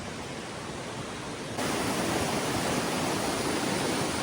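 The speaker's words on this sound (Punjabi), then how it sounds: "ਪਾਣੀ ਦੀ ਆਵਾਜ਼ ਇੰਨੀ ਆ ਪੁੱਛੋ ਨਾ ਮੈਨੂੰ ਲੱਗਦਾ ਨਾ ਉਹ ਝਰਨੇ ਦੀ ਆਵਾਜ਼ ਆਉਂਦੀ" Rushing water from a waterfall in Switzerland, a steady broadband roar that jumps louder partway through, heard alone without voices.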